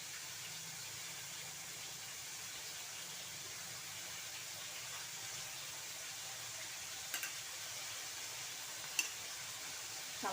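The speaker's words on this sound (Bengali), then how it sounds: "এখন আমি আলু ভাজাগুলি দিয়ে দেব।" Fried potatoes added to a pan of jhinge posto, giving a soft, steady sizzle and hiss at low level throughout, with a couple of faint clicks from a utensil near the end.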